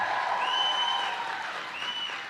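A Saturday morning crowd in a Joliet hall applauds steadily, a dense wash of clapping with whistle-like tones over it, holding at even loudness before easing slightly.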